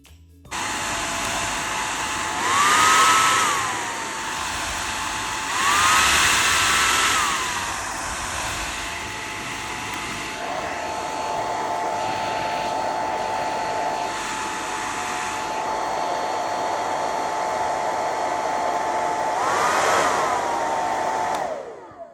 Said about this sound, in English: you can feel the loud sound of this hair dryer